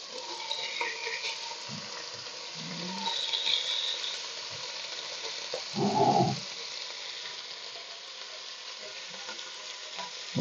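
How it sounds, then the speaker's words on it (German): Meat searing in hot oil in a heated pot for Szegediner sauerkraut goulash, a steady sizzling hiss with occasional stirring scrapes and clunks, close and continuous without talk. "Und das lassen wir jetzt etwas anbraten."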